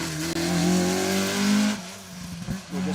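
Rally car on car 58 approaches and passes on an asphalt special stage at Rally Ceredigion, engine note rising loud and sustained, then a gear change and fading roar with some tyre noise as it goes by.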